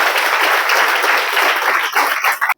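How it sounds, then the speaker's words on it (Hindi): Loud applause fills a hall at a district ceremony for newly appointed home guards, a dense sustained clatter of many hands that tapers off abruptly at the end. "एक बार जोरदार तालियां"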